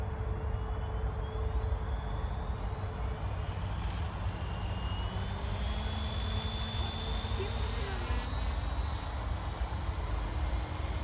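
A small RC model plane engine whines steadily in the distance, its pitch sliding up and down as it flies past, over constant outdoor wind rumble.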